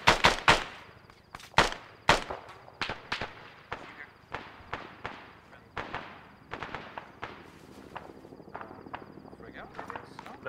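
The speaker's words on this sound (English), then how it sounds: "Grenade!" Grenade explosions and bursts of gunfire in the military shooter Arma, sharp repeated blasts and shots loud at first, then thinning to scattered cracks, with players' voices calling out between them.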